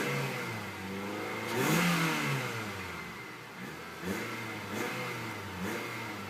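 A 2011 Nissan Sentra's 2-liter four-cylinder engine revs up several times from idle, rising and falling in short bursts, heard close with no talking.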